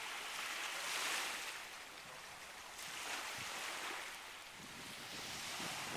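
Waves roll onto a quiet, nice beach in slow, rising and falling washes of surf. The sound is moderately distant and mixed with some wind rumble, and no voices are present.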